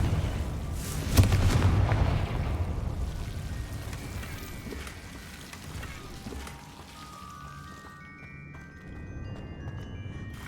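Confringo fire spell explosion in Hogwarts Legacy: one loud boom near the start, then a rumbling, crackling decay that fades into low background noise.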